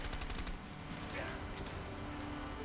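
Rapid bursts of gunfire from A Way Out, a quick stuttering run of shots at the start followed by scattered further shots, with game noise and a voice talking throughout.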